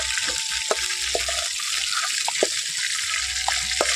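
Fish frying in hot oil in a home kitchen, cooked for a sour raw-mango fish curry, gives a steady broadband hiss with scattered sharp pops and spits, close and alone with no talk.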